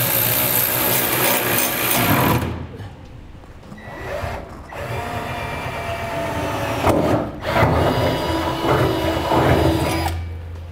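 A power drill bores a hole through the steel frame of a 2016 GMC Sierra 2500 pickup for a gooseneck hitch, loud whining grinding in several bursts with brief pauses between.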